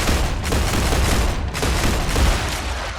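Rapid gunfire from a weapon in the video game StarRupture, a dense, loud stream of shots with booming low end that runs continuously for a few seconds, with no talking.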